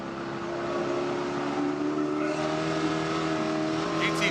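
Spec Corvette race cars roar around Buttonwillow Raceway in a steady, droning engine pass that builds slightly near the end, heard at a distance beneath a commentator's voice.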